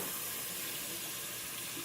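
A cream skimmer part rinsed under a running faucet, giving a steady, even hiss of flowing water that stays constant and fairly quiet throughout, with no talking.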